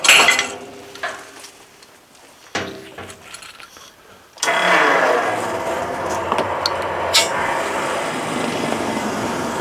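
A battery-powered Brearo fuel transfer pump switches on after a few quiet clicks and handling noises, then runs with a steady close whirring hum and rushing flow that holds to the end.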